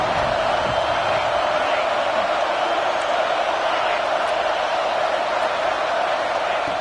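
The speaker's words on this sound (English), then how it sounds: "the crowd coming to life here, trying to help this defense down in the red zone" A football stadium crowd at an Ole Miss game roars steadily throughout as the defense holds in the red zone, a dense, continuous wash of cheering at even loudness.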